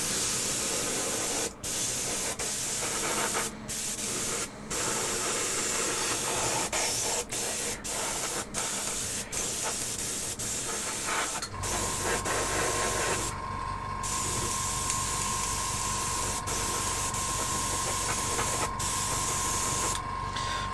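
A paint airbrush spraying onto miniature models gives a steady, loud hiss that runs almost unbroken with brief pauses, then shifts to a fuller, rougher blast with a faint tonal whine in the later half.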